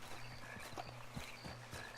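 Horse hooves clip-clop at a steady walking pace in Red Dead Redemption 2, a string of soft, evenly spaced thuds over a low ambient hum with no talk.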